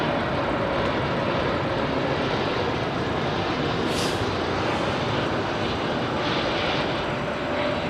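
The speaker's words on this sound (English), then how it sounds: "BA 321 Neo from Munich," Airbus A321neo airliner landing on Heathrow runway 27L, a loud, continuous roar of engines and rushing air filling the whole stretch, heard from a rooftop nearby.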